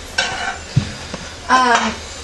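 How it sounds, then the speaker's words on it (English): Hot vanilla-and-honey syrup spooned over baklava hisses and bubbles in the pan with crackling sizzle bursts, along with a brief clink of a utensil; close and fairly loud. "I don't know if you can hear it bubbling, but it's like sizzling"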